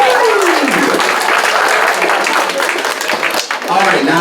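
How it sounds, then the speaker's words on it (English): An audience at a fan convention costume contest applauds the young contestants with loud, sustained clapping and cheering, while a voice talks over it at the start. "round of applause for all of our 12 and under contestants"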